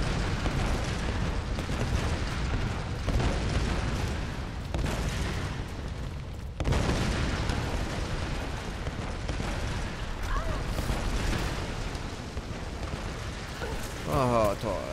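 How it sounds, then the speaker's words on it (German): Explosions in the Tomb Raider video game at a lava level, a dense, continuous roaring rumble with bursts of blasts. Sudden louder booms come near the middle and end. "Auf einmal explodiert alles."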